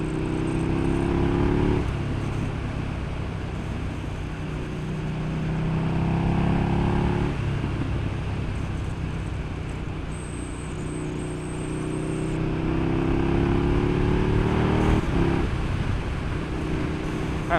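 KTM Super Duke 1290 GT motorcycle engine drones steadily while riding, rising and falling with shifts and throttle changes, with wind rush over it and no voices.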